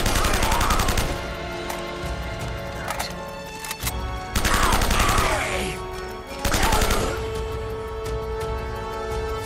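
M4 rifle gunfire in Uncharted: Drake's Fortune, several loud bursts of rapid automatic shots separated by short pauses, with crashes and impacts between them.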